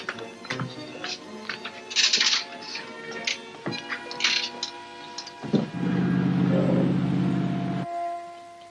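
An engine in a 1942 Sherlock Holmes film scene, starting as a steady droning hum after scattered mechanical clicks and tones, running for about two seconds and then cutting off.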